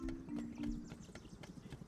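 Horse hooves clip-clopping in a video game, a quick regular trotting rhythm of soft thuds with a brief whinny-like tone at the start, moderately quiet.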